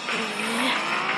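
Car driving in a video game, a continuous loud engine drone with squealing tires and a rising and falling pitch, with no voices.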